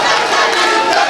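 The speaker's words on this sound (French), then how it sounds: "Je vous demande de vous lever comme un seul homme et de l'ovationner." A crowd at a party investiture gathering gives a loud ovation, with dense cheering and shouting that fills the space, close and sustained for the whole moment.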